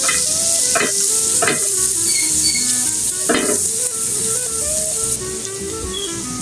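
Garlic fries in a pan with a loud, steady sizzle close by. Several scraping stirs cut through it, and nobody speaks.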